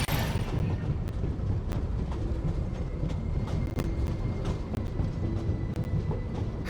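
A train rumbles along steadily in the Genshin Impact video game, a continuous low roll with scattered clicks and rattles of the carriages.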